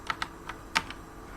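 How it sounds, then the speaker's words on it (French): A keyboard shortcut pressed on a computer keyboard gives about five light, close key clicks in an uneven quick run, with no voices. "Donc je refais le même raccourci clavier."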